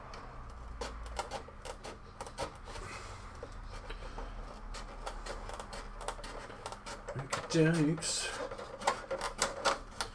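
Lexan scissors snip along the bottom edge of a decal on a clear RC car body, giving a series of quick, crisp clicking cuts close by, with someone talking over them throughout.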